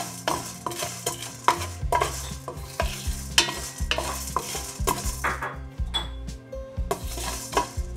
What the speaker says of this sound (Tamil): இப்போ இந்த கடலை பருப்பையும் உளுந்தையும் நல்லா dry roast பண்ணிடலாம்.